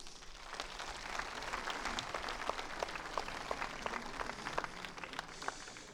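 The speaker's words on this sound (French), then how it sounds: "je vous propose, avant même que vous ne les connaissiez, de les applaudir." An audience at an evening presentation of a local election candidate list gives sustained, faint and distant applause, a steady patter of many hands.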